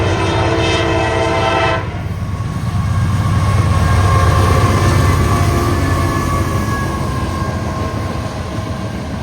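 A northbound freight train with a road slug on the end passes close and loud. Its horn sounds briefly at the start, then wheels and cars rumble steadily by.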